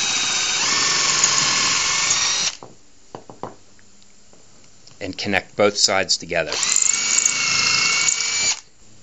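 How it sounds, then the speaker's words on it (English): Drilling with a 1/8 inch bit into a threaded-rod picture frame clamp: a high, steady power-drill whine for two seconds, then a pause filled with brief talk and clicks, then the drill running again for about two more seconds. "Now I drill from both sides using an 1/8 inch drill bit."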